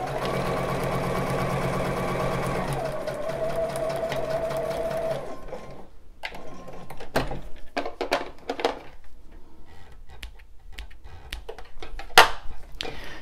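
Sewing machine straight-stitching bra elastic, a steady close whir for about five seconds, then short bursts and clicks as the fabric is turned.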